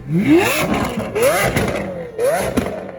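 Three sharp Lamborghini V12 engine revs in a row, each climbing quickly in pitch then dropping off, loud and close.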